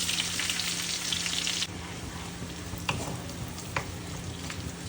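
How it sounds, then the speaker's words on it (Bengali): Chopped onions go into oil left over from frying prawns and sizzle loudly at first, then settle into a softer, steady frying hiss with a couple of sharp stirring clinks. "এবার এই তেলের মধ্যেই দিয়ে দেবো হচ্ছে কুচনো পেঁয়াজ।"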